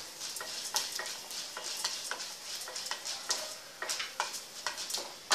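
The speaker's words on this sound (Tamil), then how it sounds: "இது நல்லா வறுபடட்டும்." Masala for paniyaram frying in a pan while a spoon stirs it, giving a steady close sizzle broken by repeated rhythmic scrapes and light ticks against the metal.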